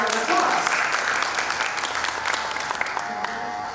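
A school audience applauds a student contestant at a public speaking competition in Thailand, steady dense clapping filling the hall, with faint voices mixed in.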